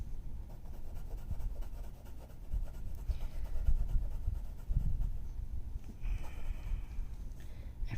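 Soft, scratchy strokes of a worn-down black pencil on paper, quiet and close, in short repeated bursts with a faint buzz toward the end.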